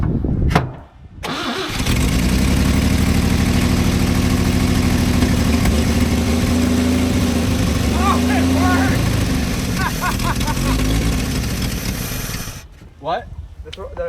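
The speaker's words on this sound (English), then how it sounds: "one of the best sounding inline sixes I've seen in a very long time" Inline six in a 1954 Chevrolet, revived after two decades, cranks and catches, then settles into a loud, steady idle close by for about ten seconds before shutting off, with brief voices near the end.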